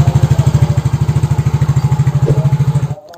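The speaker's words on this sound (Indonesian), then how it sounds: "Ini motornya udah jadi. Oke, siap di double starter, teman-teman." Yamaha Mio J scooter engine just after starting with the electric starter, a close, loud, evenly pulsing idle chug that runs steadily and then cuts off abruptly near the end.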